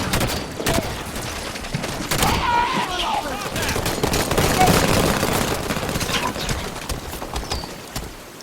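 Dense, continuous gunfire rattles through a Halo 5 firefight, with overlapping shots and bursts that swell in the middle and stay busy throughout.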